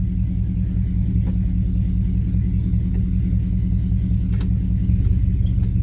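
A steady, loud engine idle from an Oldsmobile car whose transmission is being shifted through its gears, a low rumble that holds throughout with a slight rise near the end and a few faint clicks.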